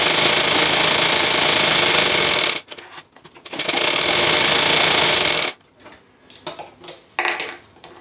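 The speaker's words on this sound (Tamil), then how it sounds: "இப்போது இது ஃபுல்லாக தையல் போட போகிறோம்" A sewing machine stitches fabric for a sleeve design in two loud, close runs of rapid whirring, then stops, followed by scattered handling clicks and rustles.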